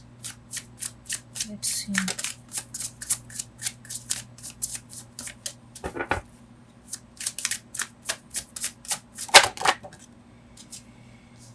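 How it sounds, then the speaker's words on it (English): Tarot cards riffled and shuffled by hand in quick repeated bursts, with a few single cards slapped down, close and crisp, while a person talks briefly. "I'm gonna get one more card in the middle."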